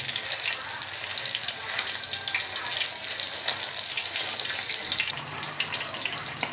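Fish in a pan of hot oil for a crispy fish fry, giving a continuous hissing, crackling sizzle with scattered sharp pops throughout, fairly close and steady.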